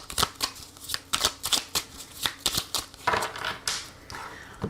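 Tarot cards being shuffled and cut, close and clear: rapid rhythmic riffling slaps in a steady series, then a softer ruffling run near the end.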